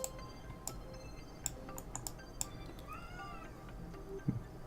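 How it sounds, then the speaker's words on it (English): A cat meows faintly in the background, a short rising-falling call partway through, amid scattered clicks and taps from a quiet indoor room, with no talk. "My cat's meowing."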